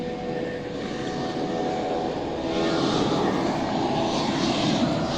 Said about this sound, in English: Looks like a Spirit Airlines jet is up next to take off. And he's taking off right now.